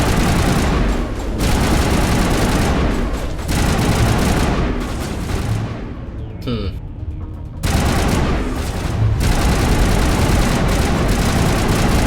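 Gunfire in the Mass Effect video game: dense, sustained bursts of shots and booms roar almost continuously, with a brief quieter gap before the barrage resumes at full loudness.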